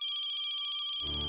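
A mobile phone ringtone chimes at a family dining table, a steady bright repeating tone that cuts off abruptly and gives way to low room noise at the end.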